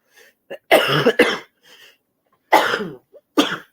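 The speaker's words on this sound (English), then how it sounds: "Damn this cough." Several harsh coughs close to the microphone, one sharp burst, a quick pair, then two more separated by pauses, with faint breaths between.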